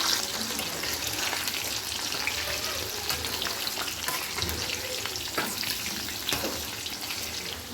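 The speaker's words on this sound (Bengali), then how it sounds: "আলু কটা ভেজে নিলে ভালো হয়, স্বাদটাও খুব বেশি ভালো লাগে।" Potato pieces fry in hot oil in a home kitchen, giving a steady loud sizzle with occasional crackles and stirring scrapes throughout, without any speech.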